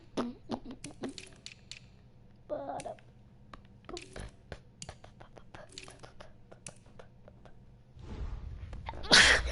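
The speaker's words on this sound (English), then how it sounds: "Really had to sneeze." A single sharp human sneeze bursts out loudly near the end, after soft whispery breathing and faint clicks, close to the mic.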